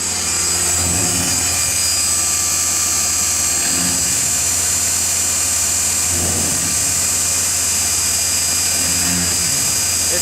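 Milling machine cutting a copper inlay for a knife at a reduced feed rate, a steady loud high-pitched whine with constant grinding noise throughout, with no voices.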